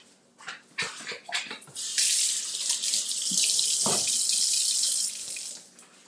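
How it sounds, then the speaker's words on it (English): A lemon being washed under a running kitchen tap: a few clinks and handling sounds, then a steady hiss of water for about three seconds that stops with a short splash and a little fumbling, with no talking. "Let me wash my lemon."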